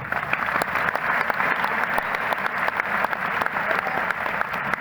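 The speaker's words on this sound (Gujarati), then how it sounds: "તમારા બધા માટે તમારે તાળી પાડવાની" Sustained applause from an audience at a live spiritual seminar in a temple courtyard, many hands clapping steadily and fairly loud for the whole stretch with no talking.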